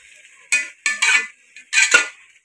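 Onions, tomato and ginger-garlic paste are stirred in a pan for veg rice, giving several separate scraping, clattering bursts close up with short quiet gaps between them.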